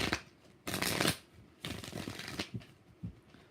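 Tarot cards are shuffled in three distinct riffling bursts, crisp and close, separated by quieter pauses, with the last burst trailing into softer taps.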